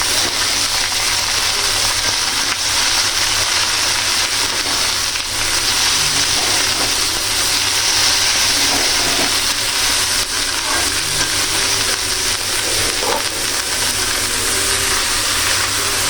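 Red amaranth greens, drained dry, go into a hot frying pan, giving a steady, close, broadband sizzle and crackle that holds throughout with no talking.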